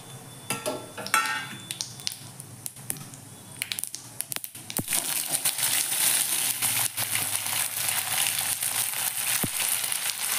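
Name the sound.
cumin and sesame seeds sizzling in hot oil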